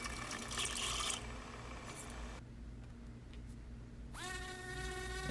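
A power drill cutting countersinks for flathead screws into aluminum pieces gives a steady high-pitched whine, dropping away briefly and then spinning back up with a rising motor tone near the end.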